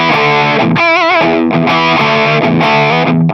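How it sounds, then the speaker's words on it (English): Heavily distorted electric guitar chords through a Boss DS-2 Turbo Distortion pedal on its turbo channel, thick and saturated, played loud with a brief vibrato-like wobble in the middle. "what happens when we go onto the turbo channel is that we get more distortion"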